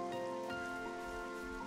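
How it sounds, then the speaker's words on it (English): Rain summoned in Xenoblade Chronicles 3 falls as a steady wash of drops over a sustained bed of game music tones, constant and moderately loud with no talking. "I want you to make it rain."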